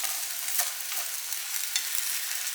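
Fried rice noodles (chow mei fun) being stirred in a hot pan, with a steady sizzle under a few soft scraping strokes of the stirring.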